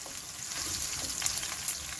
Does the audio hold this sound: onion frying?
yes